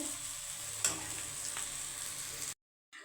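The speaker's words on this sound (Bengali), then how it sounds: "এটা কিন্তু ভাজতে একটু সময় যাবে ঝরঝরে করতে হবে ভাজাটা" A steady, close sizzle of gima greens frying in a pan, with a couple of soft stirring scrapes, then a brief cut to silence near the end.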